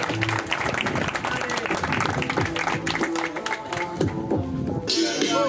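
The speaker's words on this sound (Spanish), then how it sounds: "pasa Ágata, un aplauso para Mari" An audience at a rap battle in the Canary Islands claps. The applause is brief and moderately loud, with voices and crowd noise mixed in.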